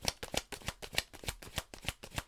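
Tarot cards being shuffled by hand in quick repeated riffling bursts, close and crisp, with a steady irregular rhythm and no talking.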